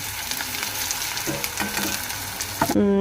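Onions fry in oil in a pan for biryani, a close steady sizzle with stirring scrapes, and a short clatter near the end.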